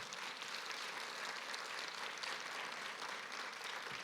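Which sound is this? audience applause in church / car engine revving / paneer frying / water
audience applause in church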